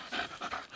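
Agitated dog kept on a chain panting in a few quick, breathy huffs, close but fairly faint and over in under a second.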